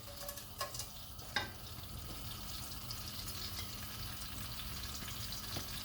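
Whole spices and curry leaves, including black cardamom, about ten black peppercorns and half a teaspoon of cumin, drop into a cooking pot for chicken keema, with a couple of light clinks followed by soft, quiet frying.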